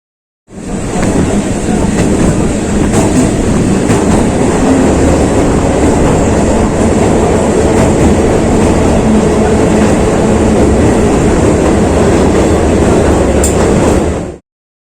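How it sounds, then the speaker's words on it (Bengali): A train to Bandel rumbles steadily along the tracks, a loud, continuous roar with rattling and clatter, heard from inside, with no talking. "ব্যান্ডেল যাবার ট্রেন ঢুকে গেছে, তো সেই ট্রেনেই আমরা রওনা দিয়ে দিলাম"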